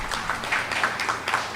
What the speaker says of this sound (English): A round of applause to the Member of Parliament.